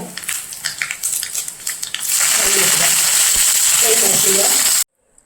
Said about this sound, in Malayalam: എണ്ണ ചൂടായി കടുക് ചേർക്കാം. ഉലുവ ചേർക്കാം. വറ്റൽമുളക്,